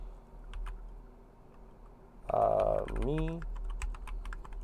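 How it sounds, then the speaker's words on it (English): Quick, light taps on a computer keyboard are spread across the span, faint and close, with a brief spoken word and a short tonal voice sound in the middle. "I'll type whatever."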